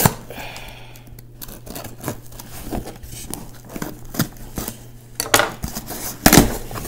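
A good knife slices open an RC parts package, with a string of close, sharp cutting and scraping strokes and crinkling packaging, irregular and growing louder toward the end.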